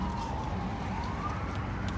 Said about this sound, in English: Where's that siren going to there?